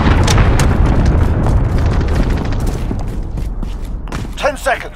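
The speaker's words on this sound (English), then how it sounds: "Allied cruise missile away." A cruise missile strike in Call of Duty: Modern Warfare detonates with a heavy booming blast that rumbles and decays over several seconds, mixed with scattered gunfire and game voices over the top.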